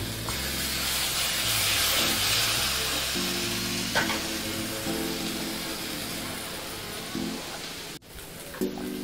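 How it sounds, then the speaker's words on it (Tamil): Ground masala paste sautéing in a pan for masala sundal, a continuous moderate sizzle with occasional stirring scrapes, no voices. "இப்போ வந்து நல்லா வதக்கி விட்டுக்கணும்"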